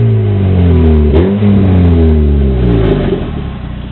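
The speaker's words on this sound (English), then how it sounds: "I got a Cobalt. It's 2006. Exhaust sucks." Engine of a 2006 Chevrolet Cobalt revving loudly through its exhaust, rising and falling in a couple of strong pulls before settling into a rough, steady idle, close up with no talking.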